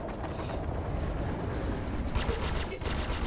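Rapid bursts of gunfire in the space combat game Star Citizen Alpha 2.3, a dense, continuous rattle of shots running throughout with heavier cracks near the end.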